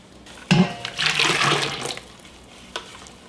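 Water pours into a container of summer dongchimi radish kimchi in a short splashing gush that begins suddenly and rushes for about a second and a half before tapering off, with a small splash afterward.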